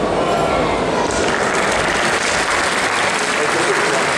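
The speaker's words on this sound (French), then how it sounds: "si le public est prêt à applaudir" An audience at a magic demonstration applauds a ring trick: loud, dense, steady clapping filling the room for the whole stretch, with no voice on top.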